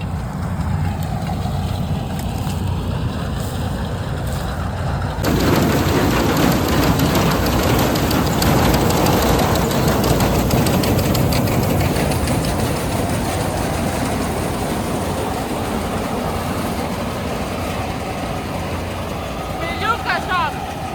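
A combine harvester threshes dry soybeans in a field, its engine and threshing drum running as a loud steady rumble and rattle that grows heavier partway through, with someone speaking over it.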